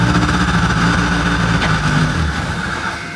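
A Honda Integra engine fitted with new injectors runs at a steady, loud idle. It makes a continuous rumble with no talk.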